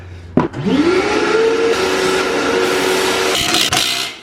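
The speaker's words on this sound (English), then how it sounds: "Using a vacuum to clean up all the shavings and stuff" A vacuum cleaner picks up metal shavings during an axle spool install, switching on with a thump and a rising whine, then droning loudly and steadily with a few clattering bumps near the end before shutting off.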